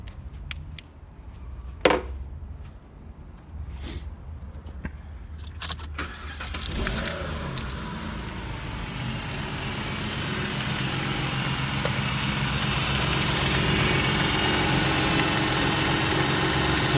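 A car with a power steering leak starts with a jangle of keys and a crank, then its engine settles into a steady idle that grows slightly louder and holds alone.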